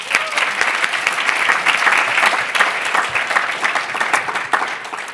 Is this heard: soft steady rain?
no